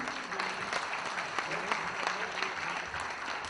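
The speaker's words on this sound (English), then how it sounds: "Can we have a huge round of applause," An audience at an IT industry event in Bihar applauds dignitaries receiving mementos and shawls, a continuous, even patter of many hands clapping at a moderate distance, fairly quiet overall.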